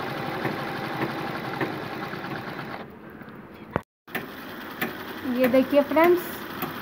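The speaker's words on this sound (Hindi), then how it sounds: "मशीन भी चल रहा और जो है घुटने के पास लीवर पुश वो भी चल रहा है" A sewing machine runs for zigzag machine embroidery while the knee lever is pressed, a low steady hum under a voice. The hum cuts out briefly, then returns with light clicking as she keeps talking.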